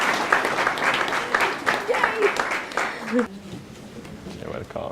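Newlyweds receive applause at the close of a wedding ceremony: a burst of hands clapping that pulses for about three seconds, then drops off to scattered claps and murmuring voices.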